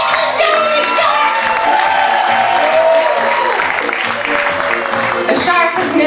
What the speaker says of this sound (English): Applause for Michael Joe the shark.